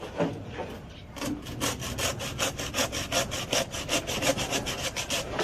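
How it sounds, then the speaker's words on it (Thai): A sharp saw rasps back and forth through deer antler in quick, regular strokes, close and steady, with no talking. "เห็นว่าเราใช้เลื่อยคมๆแล้วก็ตัด"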